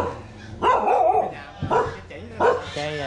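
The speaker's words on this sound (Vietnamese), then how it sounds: "Có chó nữa, chó dữ không đó, cắn đó." A fierce dog barks and yelps loudly several times in quick bursts, close by, mixed with a whimpering whine.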